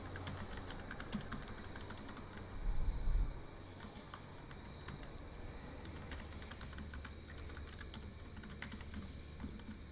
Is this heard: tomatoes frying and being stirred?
no